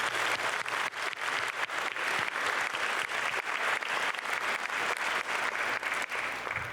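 Steady applause from an audience at a STEM fair awards evening, dense continuous clapping throughout at moderate distance with a low hum underneath.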